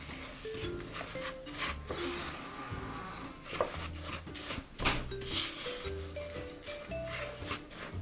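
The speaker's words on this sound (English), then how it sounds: "to that now you're going to put your oats. You're just going to stir that in as well." Oats are stirred into ginger cookie batter in a bowl with continuous close scraping and rubbing strokes. Faint music plays in the background.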